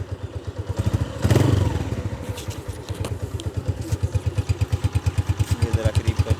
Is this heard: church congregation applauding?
no